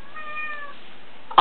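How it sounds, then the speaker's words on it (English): A domestic cat gives a single clear, close meow lasting about half a second in an otherwise quiet room, followed by a brief sharp knock at the very end. "Oh, hi, Kitty! That's my cat!"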